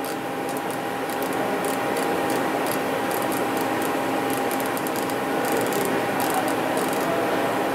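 A Milltronics CNC machine's hand wheel cranked in hand wheel mode during a tool touch-off, giving rapid clicking detents over a constant machine hum and whine, close and steady throughout.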